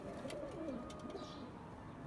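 Pigeons coo softly in a loft at dawn, a few low burbling calls rising and falling over steady background hiss, fairly faint and moderately close.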